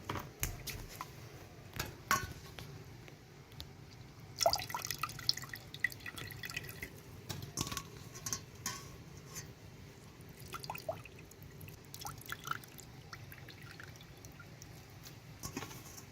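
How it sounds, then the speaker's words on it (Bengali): Water dripping and trickling from squeezed boiled soybean chunks in a village kitchen, faint irregular drips and small splashes with light clinks of utensils throughout. "জলটাকে ভালো করে চিপে নেব"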